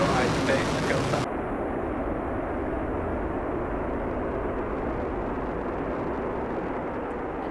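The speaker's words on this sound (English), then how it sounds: "Falcon 9 has successfully lifted off from Launch Complex 39A at Kennedy Space Center." SpaceX Falcon 9 rocket lifting off from Launch Complex 39A at Kennedy Space Center, a deep continuous broadband roar that stays loud and steady, with a voice over it at the very start.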